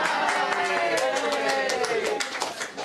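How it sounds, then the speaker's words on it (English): Audience at a Christmas education debate at Hackney Pirates claps for a speaker named David Dider; scattered, moderately loud hand claps run under someone talking over them throughout. "Can I have a round of applause, please, for David Dider?"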